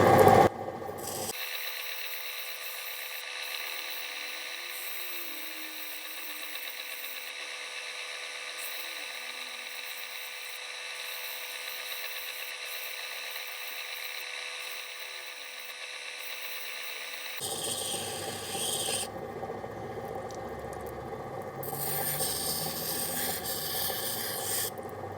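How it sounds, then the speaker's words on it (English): An opal ground on a spinning cutting wheel, heard as a steady whirring rasp with a continuous high hum. The texture shifts partway through and then carries on with more grinding noise. "with these wheels, I use the outside when I want to grind reasonably quick"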